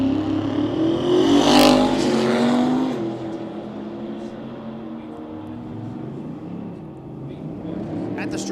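Drag racing cars, including a Rambler, roar off the line at a South Georgia drag strip during Sick Week, a loud engine blast peaking early and then fading into a sustained rumble, with an announcer talking over it.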